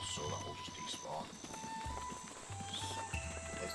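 Horse hooves clip-clopping in the video game Breath of the Wild, a steady run of soft repeated thuds under a continuous game soundscape.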